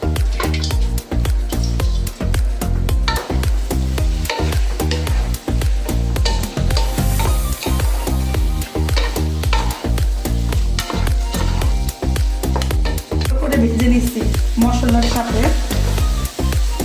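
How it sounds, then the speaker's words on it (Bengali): Masoor and mung dal are stirred and fried in a pot for khichuri, a busy sizzle broken by rhythmic scraping strokes of a spoon throughout, with a voice briefly heard. "নেড়ে চেড়ে কষাই নেব।"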